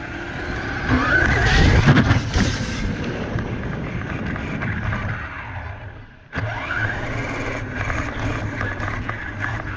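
Small electric motors whine and rev as RC cars drag race, accelerating hard, the buzzing pitch rising, cutting out briefly, then resuming close by.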